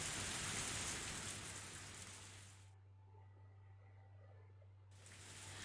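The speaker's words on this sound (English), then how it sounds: "I felt the raindrops hit my face" Steady rain pours in a Higurashi visual novel scene, a dense broadband hiss that cuts out for about two seconds mid-clip and then resumes at the same even intensity, with no voices.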